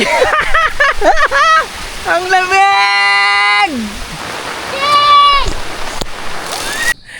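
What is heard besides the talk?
heavy rain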